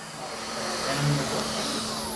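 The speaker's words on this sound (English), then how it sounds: "You can really exaggerate it with the blow dryer" A hair blow dryer runs continuously nearby in a barbershop while hair is styled, producing a steady, loud airy whoosh with a slight swell midway.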